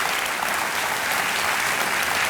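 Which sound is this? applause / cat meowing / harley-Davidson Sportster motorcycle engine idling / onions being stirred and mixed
applause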